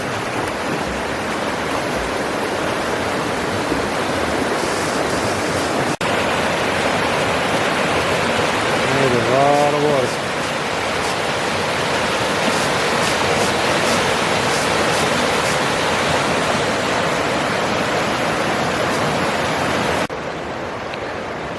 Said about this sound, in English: All this rain, boy, that water is sure moving.